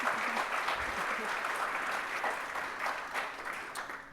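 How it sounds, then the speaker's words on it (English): An audience at an energy forum applauds a conference panel, with many hands clapping in a dense, steady patter that fades slightly toward the end. "a round of applause for this phenomenal panel"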